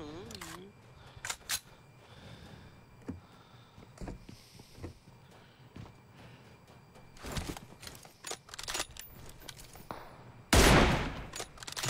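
Sharp gunshots in an online shooter video game go off in scattered single cracks and short bursts at varying distances, ending in one loud close volley.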